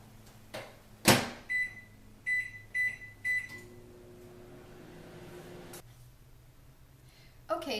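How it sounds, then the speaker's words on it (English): A microwave oven heating marshmallows in increments: a click, several short electronic beeps as it is set, then the steady low hum of the oven running close by, cut off by a closing click. "I'm going to microwave it in increments of 30 seconds"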